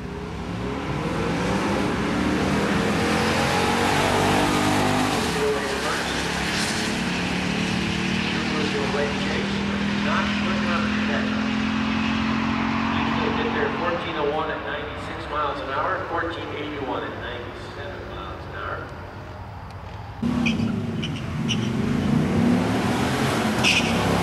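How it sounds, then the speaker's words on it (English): A Subaru and a Jeep launch side by side down a drag strip, engines roaring loud and close with rising revs, shifts and a steady high-speed drone over about twenty seconds, under an announcer's voice. "Subaru and the Jeep lined up side by side"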